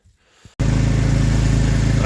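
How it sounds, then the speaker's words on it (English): A Ford C-Max diesel engine with a blocked particulate filter starts up after a near-silent moment and settles into a loud, steady idle with an even, rhythmic low throb. "with the car idling"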